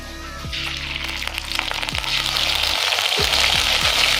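Ginger paste sizzles and fries in hot oil with nigella seeds and bay leaf for a mustard-style pabda fish dish, a steady broadband crackle with a few low thumps as it hits the pan and is stirred.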